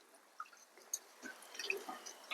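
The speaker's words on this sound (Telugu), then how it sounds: "నీళ్ళలో వేసి పిసికి 2 సార్లు కడిగి నానబెడదాం." Toor dal lentils are washed by hand in water, giving faint, soft wet squishes and small drips at close range with no talking.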